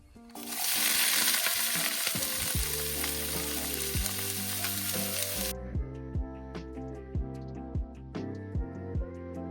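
Ackee and saltfish ingredients hit extremely hot oil in a pot, setting off a loud, dense sizzle. The frying settles into a steady crackle with regular knocks of a stirring spoon against the pot.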